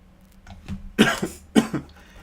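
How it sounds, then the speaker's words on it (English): A person coughs about three times in quick, harsh bursts, close to the microphone, with quiet room sound between the coughs. "This cough is ridiculous."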